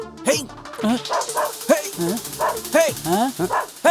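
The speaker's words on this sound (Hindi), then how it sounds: "कुत्ते कहाँ भौंक रहे हैं?" Dogs yelp and bark in quick, high-pitched bursts, loud and close, over a steady run of about four seconds.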